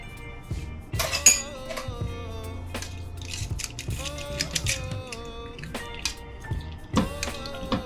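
Pasta goes into a pan of creamy garlic sauce with broccoli, giving scattered clinks and knocks of utensil on pan, some sharper taps and soft wet shifting, all close by with no talk.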